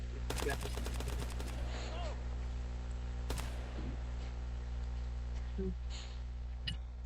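Gunfire in a roleplay video game: a rapid burst of shots at the start, then a few isolated bangs spaced apart, over a steady background hum.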